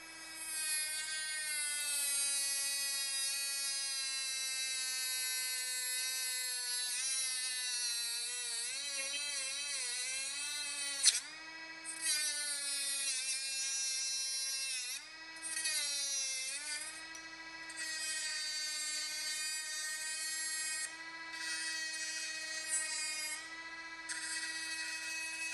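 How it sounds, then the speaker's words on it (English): A small cutoff wheel grinding through a metal bracket on a Harley hard-bag speaker adapter gives a steady, close high-pitched whine that dips briefly under load several times, with no talk. "I'm going to take a little cutoff wheel, I'm going to cut this portion off"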